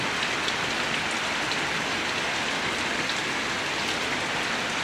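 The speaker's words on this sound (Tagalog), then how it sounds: "hindi pa rin tumitigil ang ulan" Heavy typhoon rain pours down continuously, a dense, even hiss of drops on surfaces with no letup and no other sounds.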